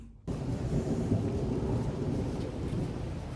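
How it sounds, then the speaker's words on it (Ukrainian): Thunder rumbles outdoors during a rainstorm, a deep continuous roll with steady rain hiss that starts abruptly and carries on for the whole stretch with no one speaking. "На вулиці йде дощ, і гримає дуже стрьомно, до речі, гримає."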